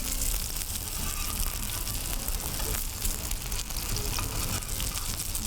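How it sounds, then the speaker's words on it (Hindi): Keema and bread kebabs fry in a pan, a loud, dense, continuous sizzle of hot oil with crackling spits, steady throughout and close up. "मैं कबाब बराबर फ्राई कर रही हूँ"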